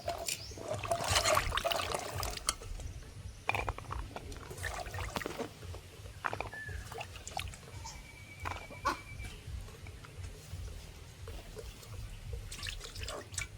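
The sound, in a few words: washing long beans in water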